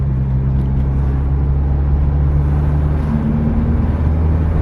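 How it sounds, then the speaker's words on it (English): A Toyota Starlet engine with individual throttle bodies and a bigger exhaust drones with a steady, deep, loud rumble, heard from inside the car at constant speed. "it's a little bit drony because of the bigger exhaust"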